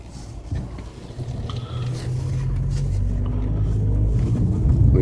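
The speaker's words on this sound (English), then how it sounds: "Car drives nice, has plenty of power." A 2010 Volkswagen TDI diesel with a six-speed DSG transmission drives along, its low engine and road rumble steady and gradually building louder over a few seconds, heard from inside the car with no talking.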